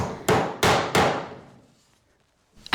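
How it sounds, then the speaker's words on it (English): Three sharp hammer blows in quick succession drive nylon foot pegs into the base of a wooden dresser, each strike ringing briefly before fading, followed by a pause and one more knock at the end. "Hammering home some nylon foot pegs"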